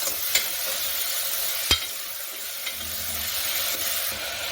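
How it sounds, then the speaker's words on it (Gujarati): A pan of spinach khichdi gets spices stirred in, with a spoon scraping and clinking a few times over a continuous soft sizzle of frying. It is close and moderately quiet, with no talking. "તો હવે આપણે બધા જ મસાલાને મિક્સ કરી લઈશું"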